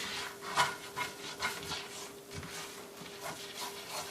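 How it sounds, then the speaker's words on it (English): A utensil scrapes browned bits of meatball drippings off a pan bottom in repeated rhythmic strokes, close and moderately loud, over a faint steady hum, with no talking. "I want to scrape up all the fond off the bottom, which is that brown crusty parts"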